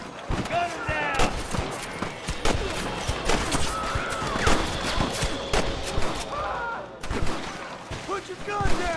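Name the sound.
gunfire in Red Dead Redemption video game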